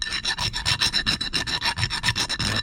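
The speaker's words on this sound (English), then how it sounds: "you can take your file and get that burrs in there with a half round." A half round file rasps burrs off the inside of a fabricated brass ring. About sixteen quick, even back-and-forth strokes follow close up and loud, with no voices.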